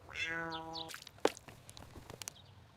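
A kitten gives one drawn-out, high, wavering meow, followed by soft scattered thumps and shuffling nearby.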